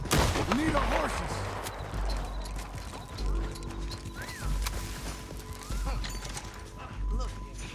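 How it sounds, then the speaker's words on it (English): Horses gallop in Red Dead Redemption 2, their hoofbeats thudding in quick clip-clop runs alongside a neigh, with game effects and mechanical clatter mixed in at moderate loudness. "We need our horses."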